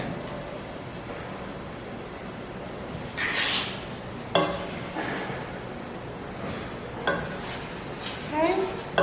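Garlic goes into onions frying in a pan, giving a soft steady sizzle broken by a few sharp clinks and scrapes of a utensil against the pan.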